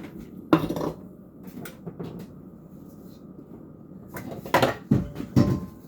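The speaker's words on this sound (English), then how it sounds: "Then I'm just going to whisk everything together." Beaten eggs are whisked into pecan pie filling in a bowl, giving bursts of close scraping and clinking against the bowl separated by quieter pauses.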